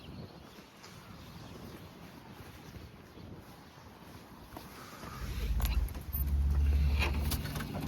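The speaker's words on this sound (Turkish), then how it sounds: "Hafiften de bir rüzgar var ama çok da etkilemiyor rüzgar." Light wind buffets the microphone outdoors near a flock of birds, a steady low rumble that swells into stronger gusts toward the end.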